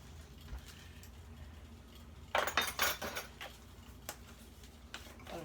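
Teaspoon of cinnamon tipped into a glass jar of cookie ingredients, a brief cluster of light clinks and taps from spoon against glass in the middle, then a few faint ticks, quiet and close.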